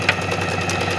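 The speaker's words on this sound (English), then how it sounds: "there's absolutely no harm in pausing the machine during sewing a seam" A home sewing machine stitching a long straight seam on a simple T-shirt, a steady close whirring hum with a faint rhythmic tick, heard alone for a moment.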